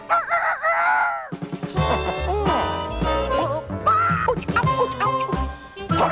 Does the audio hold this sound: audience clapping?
no